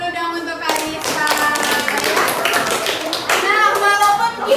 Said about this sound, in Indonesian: Kasih tepuk tangan dulu dong untuk Karisa.